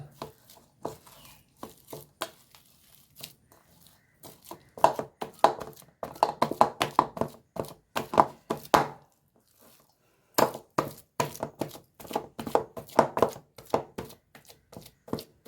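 Boiled potatoes being mashed by hand, a run of close, wet squishing and pressing taps in irregular bursts with short pauses, no talking.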